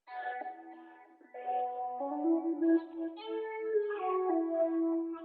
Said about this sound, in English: so I reversed it, and it sounds like this.